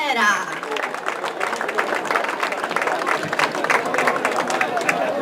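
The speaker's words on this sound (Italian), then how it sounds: "Facciamo un grande applauso a Marica." Audience applause for a singer at a Sicilian song and storytelling show, a steady dense wash of clapping sustained for several seconds, with crowd murmur mixed in.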